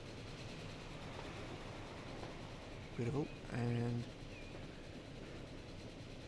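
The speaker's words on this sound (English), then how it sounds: "Here comes the next train." A train passes on the Chester branch line in the game Transport Fever: a steady rolling rumble with a brief two-tone horn blast midway, and someone speaking briefly over it.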